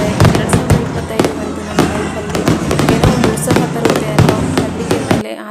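Firecrackers and fireworks burst at a New Year celebration in a dense, continuous barrage of sharp bangs and crackles, loud and close throughout, with voices faintly mixed in.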